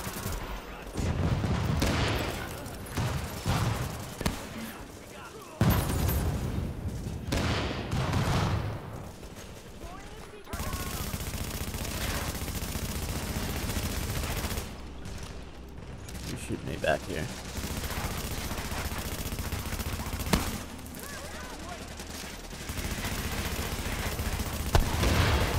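Heavy-recoil gunfire in The Division, dense sustained bursts of loud shooting with short breaks between volleys, heard close with continuous game noise.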